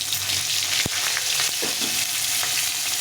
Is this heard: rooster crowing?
no